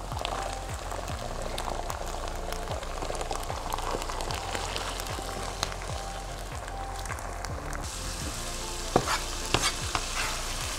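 Minced meat frying with ginger garlic paste in a pan sizzles steadily, with repeated scraping and stirring strokes and occasional clinks of the spoon against the pan, no voices.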